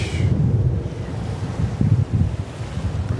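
Strong wind buffeting a microphone outdoors at JFK Airport in New York, a loud continuous rumbling roar with gusty surges, no voices.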